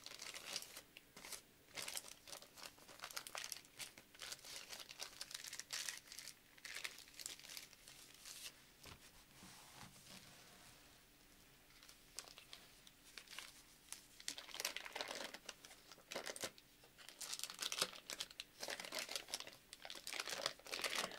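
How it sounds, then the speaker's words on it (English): Paper cupcake wrappers crinkle and crunch as they are folded up by hand, in bursts of close, crisp rustling with brief quieter pauses, no talking. "As always, I'm folding up the wrappers."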